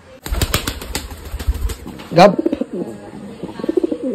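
Pigeons being handled, young birds for training, with wing flaps in a quick burst early on and a soft coo, mixed with close conversational talk throughout.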